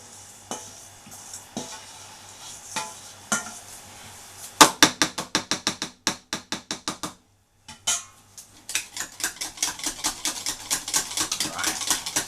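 A hand whisk beats a shea butter body scrub in a bowl, starting with sparse taps and then settling into quick, rhythmic scraping strokes that grow denser, close and clear with no talking.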